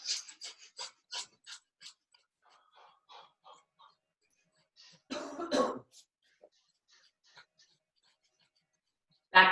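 Forceful qigong fire breath, a run of quick, rhythmic, sharp exhalations that grows fainter, then a heavier rough burst of breath and scattered soft puffs, close and alone in a quiet room.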